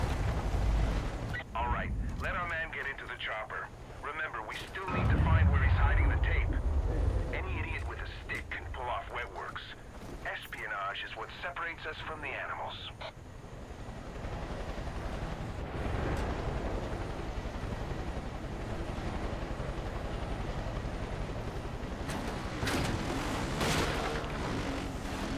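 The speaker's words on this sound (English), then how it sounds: "All I hear is the faint sound of a helicopter" A faint helicopter in the video game Far Cry 5: a steady, distant engine and rotor drone sits under windy, water-like ambience while people talk over much of it.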